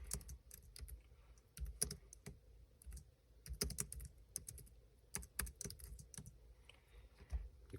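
Someone types a chord progression into music software on a computer keyboard. The keystrokes are quiet and irregular, falling in bursts of clicks and taps with short pauses between them, and no one speaks.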